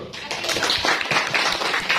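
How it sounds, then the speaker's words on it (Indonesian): A school audience of teenagers claps during a question-and-answer session on adolescent nutrition, producing dense, continuous applause that fills the whole stretch at fairly steady loudness. "Tepuk tangan dulu."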